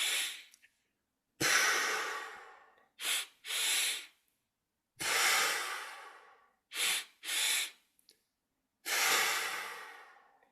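Someone breathes in with two quick sniffs and then exhales through the mouth. The pattern repeats several times, with clear, close breaths separated by silences.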